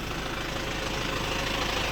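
A 2.8-litre diesel engine idles steadily close by, a continuous low rumble with a faint rhythmic knock and no talking.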